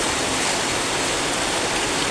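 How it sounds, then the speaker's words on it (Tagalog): Heavy rain pours steadily beside a backyard koi pond, a dense, loud, unbroken wash of water noise with no gaps. "Ang lakas-lakas ng ulan dito sa amin."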